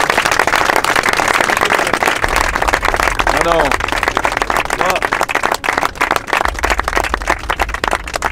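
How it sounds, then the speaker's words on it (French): A crowd at the finale of a firefighters' event breaks into loud, sustained applause close by, with people talking over the clapping and a brief shout partway through. "je pense qu'on peut l'applaudir"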